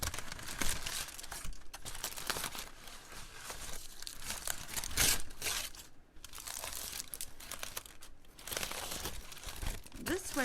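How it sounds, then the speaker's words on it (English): A tumbler cup is unwrapped from its packaging, with steady close crinkling and rustling of wrap that continues throughout, loud and busy, with no speech. "So I take it out of my bag and then unwrap it."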